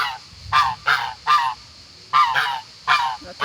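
Geese at an animal refuge honk loudly and close by in short repeated bursts, about six calls in uneven pairs with brief pauses between them.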